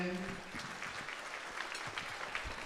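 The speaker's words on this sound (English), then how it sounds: "A big round of applause for Frank and for Ian." Audience applause at a cancer research charity gala dinner dance, a moderate, steady patter of clapping that continues throughout, somewhat distant, with faint voices mixed in.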